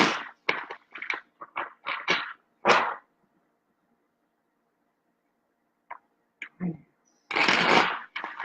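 Tarot cards are shuffled and pulled from a deck, with a quick run of crisp, riffling card flicks, a quiet pause, then a few scattered snaps and a final longer rustling shuffle, close by.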